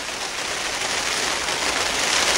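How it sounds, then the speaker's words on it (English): Steady, dense rainfall hissing evenly throughout, a continuous wash of drops with no voices or other sounds on top. "it's a bit miserable and it's raining"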